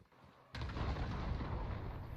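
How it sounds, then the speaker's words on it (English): Cluster strike explosions from the Call of Duty video game boom in after a brief quiet moment. A single sudden blast gives way to a sustained, rumbling roar of overlapping detonations. "Enemy cluster strike incoming."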